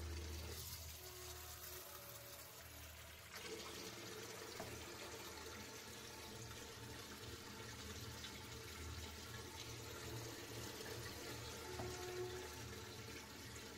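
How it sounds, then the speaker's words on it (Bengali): Arhar dal lentils are rinsed in a bowl of water, a steady, faint sloshing and trickling that continues throughout with no pause. "4 মুঠো আমি অরহর ডাল নিয়ে নেব। এবারে আমি এটাকে খুব ভালোভাবে ধুয়ে নেব।"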